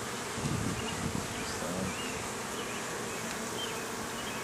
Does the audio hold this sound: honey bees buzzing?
yes